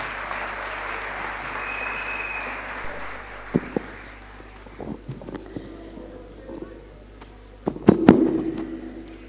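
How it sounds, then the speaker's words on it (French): Audience applause at a university graduation ceremony fades from a steady broad wash of clapping into scattered claps and thumps, with a louder burst near the end. "Sous vos acclamations, s'il vous plaît."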